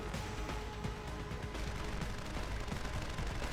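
Continuous video game gunfire in Deus Ex: Human Revolution, a dense rattle of overlapping shots and impacts at steady loudness with no voices.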